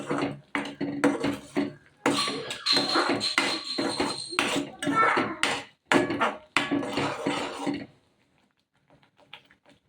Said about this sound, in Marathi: आता हे सगळं चांगलं परतवून घेऊया।